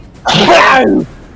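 At a tabletop role-playing game session, someone lets out a single loud, close sneeze lasting under a second, with no talk over it.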